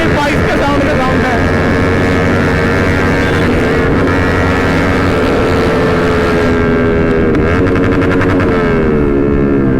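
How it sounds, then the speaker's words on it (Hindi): Several motorcycles with full-system exhausts ride together in a group. Their engines drone loud and close throughout, in a dense, layered roar with rising and falling revs. No voice stands out above the exhaust noise. "इतनी बाइक के साउंड है"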